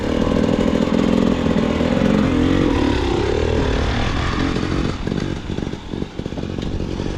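A two-stroke or four-stroke pit bike or motocross motorcycle revs hard on a dirt track, its loud, buzzing engine droning steadily before dropping into rougher, sputtering throttle blips near the end.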